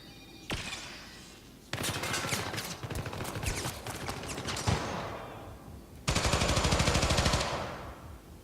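Gunfire in a fight in the Syndicate video game, with dense bursts of rapid automatic shots and sniper fire coming in loud waves of sustained fusillade, broken by brief gaps, and no voices over it.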